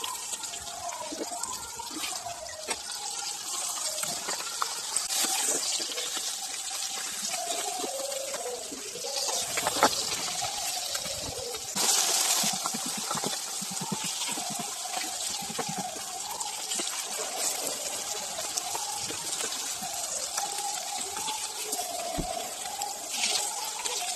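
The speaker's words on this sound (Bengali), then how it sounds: "একটু লো আঁচে পাবদা মাছটা ভাজার চেষ্টা করবে" Pabda fish frying in oil over low heat, a steady, continuous sizzle with faint crackles running the whole time at moderate level, with no voices.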